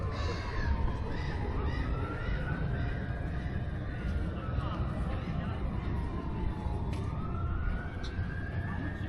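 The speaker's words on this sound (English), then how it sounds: "Hello, seagulls." Seagulls call repeatedly beside a church in Boston, Lincolnshire, England, their cries rising and falling over steady outdoor background noise, with some talk nearby.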